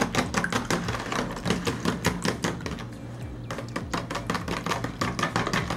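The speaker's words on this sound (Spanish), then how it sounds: "Se tiene que mezclar muy bien, así como estuviera haciendo un huevo revuelto." Eggs being whisked for French toast, a fast, steady rhythm of close, crisp clicks and taps of utensil against a bowl, continuous with a brief slowdown midway.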